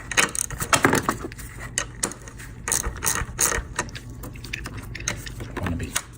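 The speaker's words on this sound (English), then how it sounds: "I love these ratchet wrenches." A 13 mm ratchet wrench works a fastener on the air strut of a Mercedes W220 S430, giving bursts of quick, close clicking with metallic clinks and pauses between strokes, and no talking over it.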